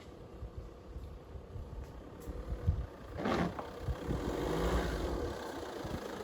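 A Jeep engine rumbles while driving off-road, a steady low drone that swells and strains as the vehicle climbs, heard moderately close with no talk.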